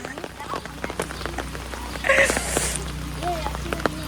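Morning rain during a flood falls steadily on surfaces as a family walks with umbrellas, a soft continuous patter with a few sharper drips and voices murmuring over it.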